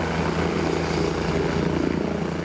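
An emergency rescue helicopter of the SUEM 118 medical service drones steadily with a dense, continuous rotor and engine roar, loud and close, with a faint rhythmic beat and no speech.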